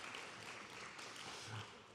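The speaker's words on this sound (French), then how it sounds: "applaudissements aussi, s'il vous plaît." Audience applause for a panel guest at a talk on French rap and electronic music, a soft, steady patter of many hands heard from a distance with no speech over it.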